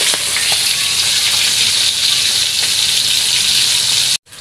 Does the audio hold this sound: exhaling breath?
no